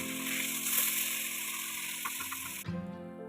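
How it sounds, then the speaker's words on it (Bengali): Tengra fish, rubbed with turmeric and salt, fry in hot oil with a steady close crackling sizzle that runs loud for more than two seconds before cutting out abruptly. "লালচে করে ভাজা করে নেব"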